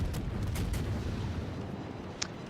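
Naval ship guns fire in the World of Warships video game during a clan battle, several booming shots rumbling at the start and a sharp crack near the end.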